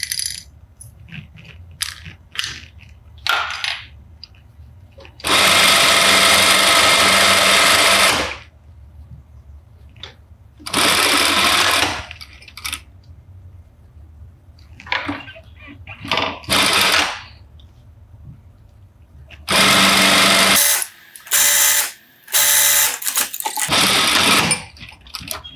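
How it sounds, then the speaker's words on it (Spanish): Sewing machine stitching fabric for a summer blouse: loud, close bursts of rapid mechanical whirring, each lasting a few seconds, separated by quiet pauses with small handling noises. "Y lo cosemos hasta la mitad, más o menos."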